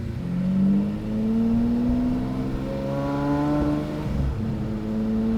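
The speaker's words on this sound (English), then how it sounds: "Oh my God, the sound of this thing is just insane. It is a very, very loud car" A Lamborghini Murcielago Roadster engine revs up loudly, its pitch sweeping upward over several seconds before dropping back, then building again, heard close and alone.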